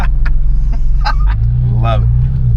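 A Porsche GT3 Touring pulls hard from the cabin, its engine a loud low rumble that rises in pitch under acceleration, with people talking over it.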